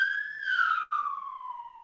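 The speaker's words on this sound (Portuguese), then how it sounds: "Tem uma buzina aqui passando." A police vehicle siren wails past, a single rising-then-falling electronic tone that briefly cuts out midway, moderately loud with no one speaking.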